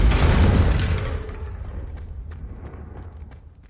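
Confringo spell explosion in the video game Hogwarts Legacy: a loud, deep booming blast that hits at once and then rolls off into a slowly fading rumble with faint crackles.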